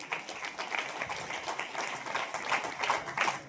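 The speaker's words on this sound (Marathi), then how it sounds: "मला वाटते त्याच्यासाठी टाळ्या का होऊ नये." An audience at a devotional kirtan gathering in Maharashtra bursts into applause. Dense, continuous clapping from many hands fills the whole moment at a steady, moderately loud level.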